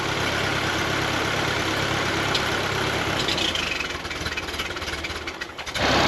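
A 1939 Ford 9N tractor engine runs steadily close by, a continuous low rumbling chug with a dense mechanical drone that holds even before shifting briefly near the end.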